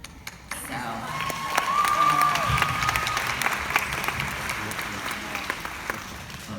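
A convention audience at a pop culture con claps and cheers loudly, the applause swelling quickly and holding steady with scattered whoops and voices mixed in.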